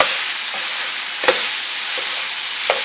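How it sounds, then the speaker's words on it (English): Andouille sausage browning in a pot: a steady, fairly loud sizzle and hiss throughout, with a few sharp clicks and scrapes of stirring at intervals, no voices. "I just want that andouille sausage to kind of brown up a little bit."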